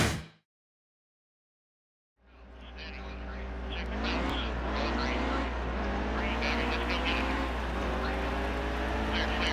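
Several race car engines roar at Martinsville, a loud steady drone with shifting pitch sweeps as cars pass close, starting after a short silence.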